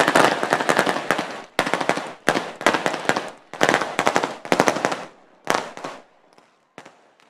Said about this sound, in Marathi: जबरदस्त फटाके फोडले.